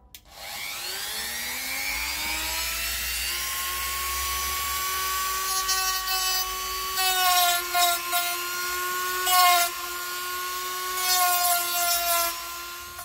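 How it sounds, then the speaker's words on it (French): A Dremel rotary tool scrapes rust from a part of a 1970 Fiat 500F. A high whine spins up and holds steady, broken by several harsh bursts of grinding as the bit bites into the metal, close and fairly quiet. "J'ai fait ça à la Dremel parce que c'était vraiment localisé"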